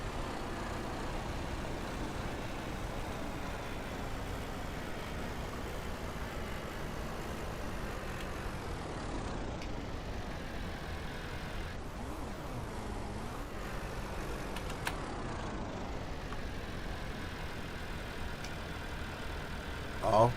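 A tractor drives along in the Ranch Simulator game, its engine a steady, continuous drone that holds at an even level throughout, with no talking over it.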